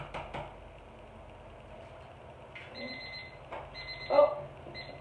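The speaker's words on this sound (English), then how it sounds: "that's my timer for my water outside." A kitchen timer set as a reminder for lawn watering beeps in short repeated high-pitched bursts, moderately loud over a low background hum in a home kitchen.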